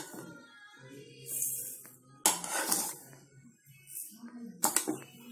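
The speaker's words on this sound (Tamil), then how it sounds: "ப்ளைன் ரவையை லைட்டாக வறுத்து எடுத்துக்க போகிறோம் ஃப்ரெண்ட்ஸ்." Dry semolina (rava) being roasted in a pan for upma, a spoon scraping and clinking against the metal in uneven bursts, with two sharper louder scrapes standing out, close and fairly quiet with no talk.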